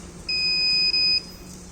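A single steady electronic collision-alert buzzer tone holds for about a second, with a brief dip near the end, over quiet background hiss.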